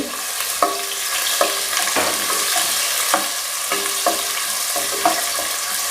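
Small onions sauté in a pan with a close, steady sizzle for Chettinad chicken gravy, while a spoon scrapes and stirs in regular strokes about once a second. No voices.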